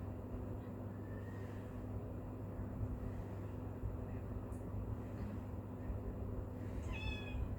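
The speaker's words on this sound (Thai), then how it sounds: "แมวเหมียวมาแล้วนะครับ" A domestic cat gives a couple of faint, brief meows, one early and one near the end, over a steady low background hum.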